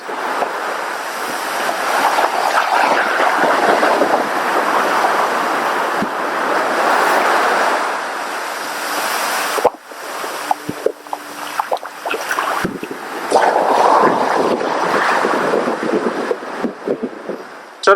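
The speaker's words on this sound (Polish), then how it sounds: "Tutaj ludzie mówili, że bardzo mocno ściągają te fale w głąb oceanu, więc trzeba być czujnym." Ocean surf rolls onto the beach at Playa Grande in the Dominican Republic. Broad, loud wash of breaking waves surges and recedes, with wind buffeting the microphone and a brief lull midway before the roar builds again.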